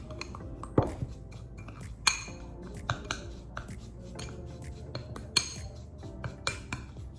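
A skin scrub mixture with olive oil stirred in a small bowl, sparse clinks and taps of a spoon against the container at irregular intervals, quiet and close with no talking.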